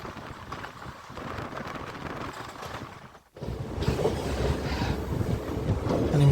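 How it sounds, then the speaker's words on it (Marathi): A Miraj–Kolhapur DEMU train rumbles along at full speed, a loud continuous roar with rattling carriages and wind buffeting, briefly dropping out before surging back even louder. "गाडी एकदम आपल्या जे मॅक्सिमम स्पीड आहे त्या स्पीडवरती चालत आहे"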